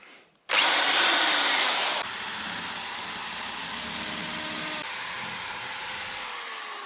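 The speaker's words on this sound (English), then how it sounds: "I need a more powerful drill. Alright, time to give it a go with this one." A power drill starts abruptly and runs loudly at a steady high whine, dropping slightly in pitch after a couple of seconds and continuing without pause.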